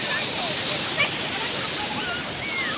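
Sea waves wash onto the beach at Digha, a steady close rush of surf and sloshing water with one small splash in the middle.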